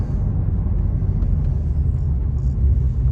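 A Ford F250 pickup's V10 engine, fitted with new headers and injectors, runs with a low, steady rumble and a slight tick, idling nearby with no voices.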